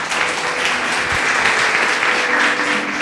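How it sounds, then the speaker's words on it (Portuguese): A church congregation claps their hands in praise, a dense, steady wash of applause filling the room for a few seconds without letup. "Louve ao Senhor com as suas palmas."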